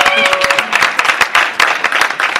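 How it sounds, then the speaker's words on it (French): Wedding reception guests clapping for the newlyweds Blaise and Letty, a loud, dense burst of applause filling the room with a voice over it. "Veuillez applaudir Blaise et Letty."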